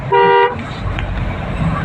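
A vehicle horn at Kandla port gives one loud, short, steady honk near the start, then fades into a continuous low rumble of road and engine noise.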